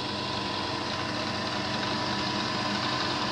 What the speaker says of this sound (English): as you can see, our flying cutter is already rotating